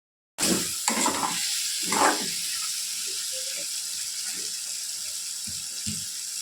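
Water is added to potatoes frying in a pan, setting off a constant bright hiss and sizzle under a few short scraping stirs, close and moderately loud throughout.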